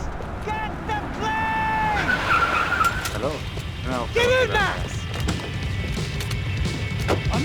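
In the video game Max Payne 3, a car drives hard with repeated loud tyre skids and squeals over a constant engine roar, mixed with a few thuds and hits.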